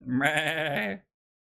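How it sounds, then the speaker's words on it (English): A single sheep bleat from the Minecraft video game, one wavering, drawn-out call lasting about a second, heard alone and fairly close before the sound cuts to silence. "My favorites are probably sheep."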